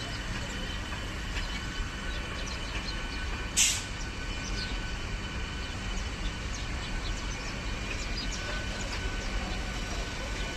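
A train rumbles steadily along the rails through platform 3 of Dum Dum Junction, with a constant low roar of wheels and carriage noise, and a brief sharp hiss partway through.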